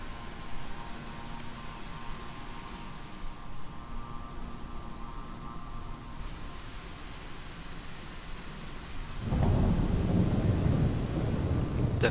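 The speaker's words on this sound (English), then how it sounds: "Definite thunderclap there." In a flight simulator game, a King Air 350i twin-engine plane flies through cloud: steady wind-like rushing and a low hum, then a deep rumbling thunderclap swells near the end and keeps rolling.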